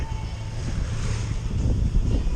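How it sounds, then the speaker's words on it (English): Wind rushes across the microphone aboard a sailboat under full main and jib, with a low, gusty roar and water noise building slightly toward the end. "I'm taking advantage of this wind"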